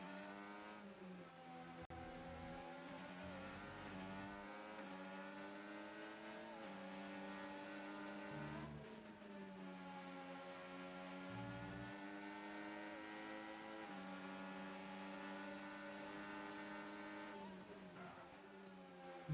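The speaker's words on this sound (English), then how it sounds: "Darrell with the more optimal line, let's say, and does manage to stay ahead of Andy's car" Formula 1 race cars in a video game, several engines droning and whining at high revs on track, with steady pitch shifts as they accelerate and ease off, heard faintly throughout.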